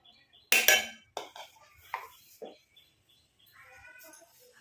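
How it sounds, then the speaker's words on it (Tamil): A spoon clinks against a bowl as henna powder is scooped in: a few sharp, close metallic taps and scrapes with pauses between, and a faint soft rustle at the end. "2 ஸ்பூன் அளவுக்கு மருதாணி பொடியை ஆட் பண்ணிக்கோங்க"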